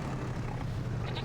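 A herd of about 80 goats on a homestead in a farming survival game bleats loudly over a steady, dense backdrop of animal noise.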